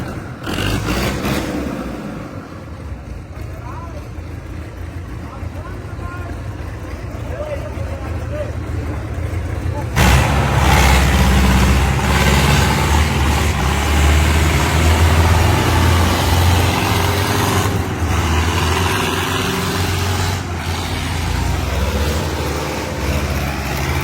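A Swaraj 855 and an RX 60 tractor strain against each other in a tractor pull, their engines a heavy continuous rumble that grows louder and denser partway through, under excited shouting from onlookers.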